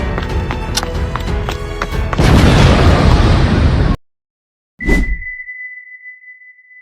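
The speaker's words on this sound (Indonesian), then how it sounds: "nyalain semua bom yang kalian bawa" Bombs explode in the Sakura School Simulator video game: a loud, roaring blast cuts to sudden silence, then a second sharp boom is followed by a lingering high ringing tone.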